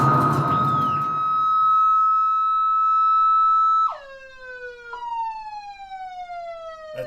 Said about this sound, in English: That siren, that's cool how...